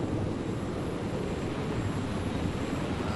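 Steady helicopter engine drone in a multiplayer video game race, a constant broadband rotor and engine roar holding at an even level throughout with no breaks.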